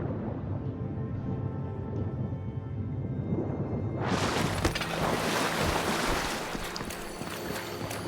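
Water rushing and splashing inside a cave-like area of the video game Avowed, a low ambient rumble giving way to a loud, broad wash of flowing water that stays steady to the end.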